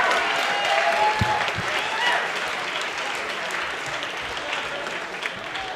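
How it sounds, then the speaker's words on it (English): A comedy club audience applauds a stand-up comedian at a laugh-off finals, with dense, sustained clapping from a large crowd, loud and continuous throughout, fading slightly toward the end. "Give him a big round of applause."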